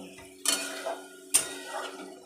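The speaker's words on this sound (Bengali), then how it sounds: "এবার আমি একটা ঢাকা দিয়ে দেবো।" Two distinct metallic clanks ring out close by as a lid is set onto a pan of okra cooking dhaba style, each followed by a faint sizzle and a short ringing tail.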